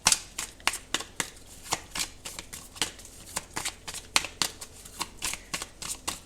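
Tarot cards shuffle in quick repeated riffling bursts, close and crisp, each a short papery flutter following the last at an irregular pace.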